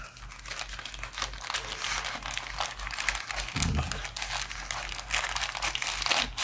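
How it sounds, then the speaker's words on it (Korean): Butcher paper is scraped and cut from top to bottom while wrapping a pulled pork burger, giving a close, continuous crinkling and tearing rustle with a brief duller scrape midway and no talking. "위에서 아래로 슬슬슬슬 해서 바닥까지 쭉 긁으셔야 돼요. 그래야 종이가 잘리죠"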